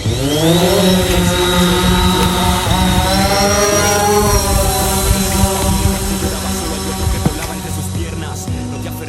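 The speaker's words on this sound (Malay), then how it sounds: "sekarang kita punya aircraft dah take off kan" A survey drone lifts off with a loud, steady multi-rotor whine that holds its pitch and shifts slightly as the rotors spool up, close by and alone for the whole stretch.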